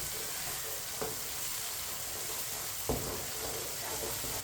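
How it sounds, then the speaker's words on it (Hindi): Tomatoes cook in a pan, giving a steady broadband sizzle while a spoon stirs them, with two brief scraping knocks against the pan standing out near the start and middle. "टमाटर को भी 2-3 मिनट के लिए पका लेते हैं। इसे ऐसे ही चम्मच चलाते हुए।"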